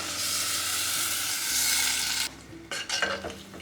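Second coconut milk is poured into a pan of coconut milk rasam, a loud steady sizzling and bubbling that cuts off abruptly partway through, followed by quieter stirring and liquid sounds.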